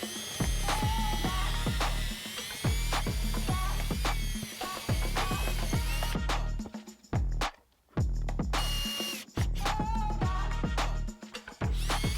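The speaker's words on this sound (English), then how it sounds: "So first thing to do is go ahead and pre-drill some holes." A power drill pre-drilling holes in a garage wall, whirring in loud bursts, running steadily for several seconds, stopping briefly, then starting again, close by.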